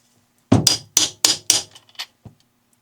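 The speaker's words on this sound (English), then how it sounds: "I'll take my 19mm socket and tap this down with that." Metal 19mm socket tapping a part down onto the spline of a Traxxas XRT RC truck during a rebuild: four sharp, close knocks in a steady rhythm followed by two lighter taps, alone.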